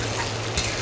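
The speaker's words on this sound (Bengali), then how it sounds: "ভালো করে নাড়াচাড়া করে নেব।" Lentils stirred in a hot frying pan with onions for torka dal: a brief close scrape of the spoon over a steady sizzle, with no voices.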